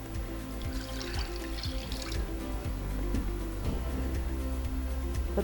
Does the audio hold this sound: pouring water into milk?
yes